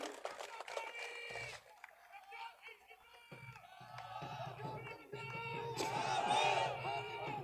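A rally crowd in Sanaur claps and cheers, the noise swelling into a loud, dense roar toward the end, mixed with shouts and overlapping voices.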